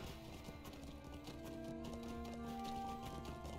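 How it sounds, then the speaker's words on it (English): Horse hooves clip-clop steadily in the video game Lord of the Rings Online, a continuous rhythmic trotting over ambient game music and tones, with no talk. "I'm gonna take a horse now."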